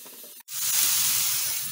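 Crushed onion dropped into a hot pan bursts into a loud, steady sizzle and hiss after a brief moment of silence, continuing close up with no talking.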